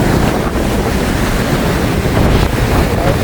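Cyclone-force wind and heavy waves pound the coast at Jaffna in a loud, continuous roar, with gusts buffeting the microphone and surf crashing throughout.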